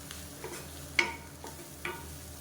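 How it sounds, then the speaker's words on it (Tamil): Greens for small onion chutney sautéing lightly in a pan, with a faint background sizzle and a few soft spoon clinks and stirring scrapes spaced irregularly. "அந்த கீரை வந்து லைட்டாக அப்படி வதங்கினா போதும்"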